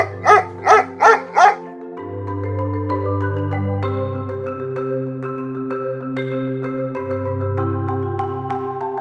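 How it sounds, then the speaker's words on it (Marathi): A dog gives four quick, sharp barks in a row, then goes quiet as a sustained musical tone plays on under it. "हा माझा कुत्रा आहे."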